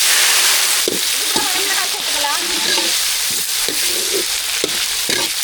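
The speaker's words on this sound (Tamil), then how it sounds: "என்ன சூடாயிட்டு கடுகு சேர்த்துக்கலாம் நல்லா பிடிச்சிட்டு ஜீரகம் சேர்த்துக்கலாம் ஜீரகம் நல்லா பிடிச்சி கருவேப்பிலை சேர்த்துக்கலாம்" Mustard seeds, cumin and curry leaves fry in hot oil as tempering for sambar, giving a close, loud crackling sizzle with sharp pops, while someone speaks over it.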